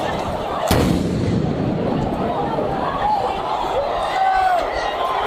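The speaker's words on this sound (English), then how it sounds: "Some fireworks." Fireworks set off during a rowdy street celebration by Knicks fans in New York: one sharp bang early on, then a steady wash of crowd noise and chatter.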